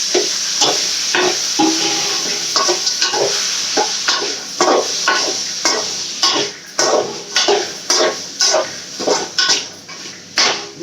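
Onion and tomato sautéing with cowpeas in a home kitchen pan, a steady sizzle underneath while a spoon stirs and scrapes in quick repeated strokes that grow louder and more rhythmic toward the end.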